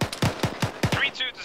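Rapid bursts of gunfire during military-style platoon training, a string of sharp reports in close rhythm, loud and near, followed by brief tonal sounds at the end.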